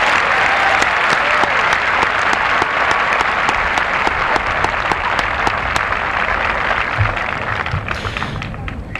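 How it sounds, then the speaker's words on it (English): A graduation crowd applauds the high school commencement class of 1995, a dense, loud wash of clapping from many hands that holds steady throughout and thins slightly near the end. "Let's give them a very well-deserved round of applause."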